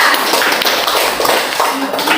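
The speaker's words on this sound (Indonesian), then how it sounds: "Tepuk tangan untuk Syaira." A classroom of students claps together for a classmate, a steady, full patter of many hands at close range that fills the room for a couple of seconds.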